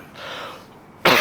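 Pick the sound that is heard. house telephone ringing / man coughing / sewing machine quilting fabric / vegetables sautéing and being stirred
man coughing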